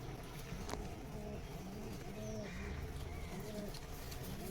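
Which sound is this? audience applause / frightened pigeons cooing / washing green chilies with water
frightened pigeons cooing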